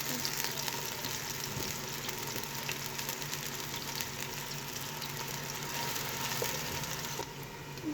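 Cumin seeds, a cinnamon piece, black peppercorns and cloves frying in hot oil with onions, a steady close sizzle and crackle running throughout without pause.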